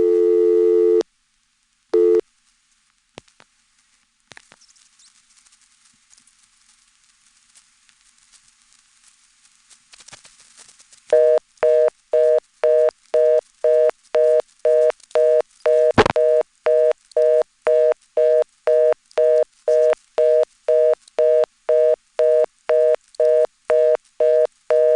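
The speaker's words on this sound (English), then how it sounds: "the reorder trunk times out and you're left on the lockout relay for your line" Telephone reorder tone from a dedicated reorder trunk on a 1977 GTE/Leich CXP-5 crosspoint switch: fast, evenly pulsed beeps starting after clicks and near silence, continuing steadily and loudly to the end, with no talking.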